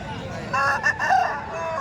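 A desi breed rooster crows at a busy village festival market, one short mid-pitched call rising over a steady murmur of crowd noise and babble.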